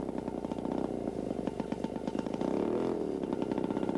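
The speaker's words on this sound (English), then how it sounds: "you're going to want to experiment with applying a bit more throttle back and forth, up and down with the throttle" A Weedhopper ultralight airplane engine runs steadily and loud, its throttle eased up and down so the pitch rises, dips and climbs again, with a rattly, buzzing tone close by.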